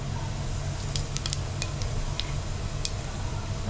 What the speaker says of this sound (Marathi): आपण पहिला फोडणी देऊन घेऊया. मी इथे मोहरी घालते